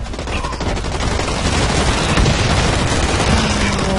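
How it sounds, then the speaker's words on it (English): Heavy, continuous gunfire in the online shooter Blacklight Retribution, many weapons firing at once in a loud, dense barrage with no gaps, close and overwhelming. "so much people shooting"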